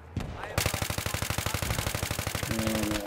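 Battlefield 3 rifle fire on the Damavand Peak map, a rapid steady burst of about twenty close, loud automatic shots in a row, with a faint voice underneath.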